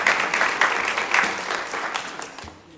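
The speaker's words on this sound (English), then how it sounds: "A big applause for whoever put those together." An indoor audience gives a short burst of applause, fairly close dense clapping with a few sharper claps standing out, tapering off toward the end.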